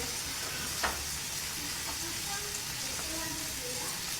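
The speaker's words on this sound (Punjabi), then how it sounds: "ਥੋੜਾ ਜਿਹਾ ਟਮਾਟਰ ਨੂੰ ਸੇਕ ਲਵਾ ਲਿਆ ਆਪਾਂ ਤੇ ਹੁਣ ਆਪਾਂ ਇਹਦੇ ਵਿੱਚ ਪਾ ਦਿੰਨੇ ਆ ਜਿਹੜੇ ਬੇਸਿਕ ਮਸਾਲੇ ਹੁੰਦੇ ਆ" Tomatoes sizzling and frying steadily in a pan with spices, a continuous close hiss with a brief clatter of stirring near the start.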